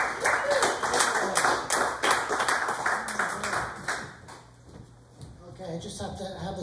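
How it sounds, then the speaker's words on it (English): An audience at a CSMI event in New Jersey claps loudly in a dense burst that fades away after about four seconds, leaving a quieter room with a voice speaking. "Give them a round of applause,"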